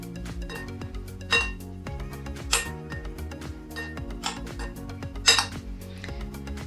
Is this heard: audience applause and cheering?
no